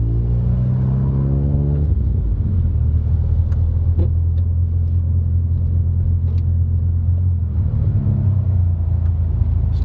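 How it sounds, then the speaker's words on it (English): A Mazda 626 GT engine running close by, a steady low idle rumble with a brief rising rev near the start and another small swell toward the end. "About to take the 626 out with blinkers and stuff now."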